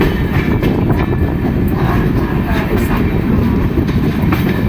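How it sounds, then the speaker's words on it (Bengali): The 22305 SMVT Bengaluru express rolls along after leaving a station, a loud steady rumble with deep low roar and rattling carriage noise, heard from aboard with faint clickety-clack. "আমাদের ট্রেন ছেড়ে দিল 1:23 ভুবনেশ্বর স্টেশন থেকে"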